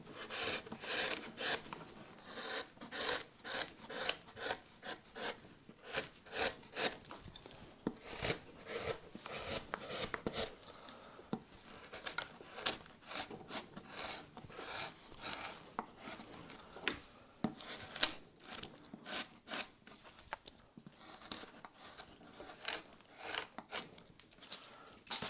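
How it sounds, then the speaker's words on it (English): A flat gouge or chisel shaves the corners off a wooden block while carving a stylised tree, making a long series of quick, dry scraping and rasping strokes in an irregular rhythm, close and moderately quiet, with no speech. "we can use a big tool, a flat gouge or a chisel, and we can just start taking off some of these corners"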